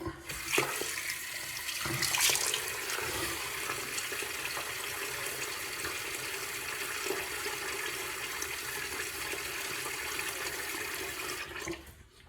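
A bathroom tap runs steadily while a face is wetted before a wet shave, a constant close rush of water lasting nearly the whole stretch with a few splashes near the start, then cut off at the end.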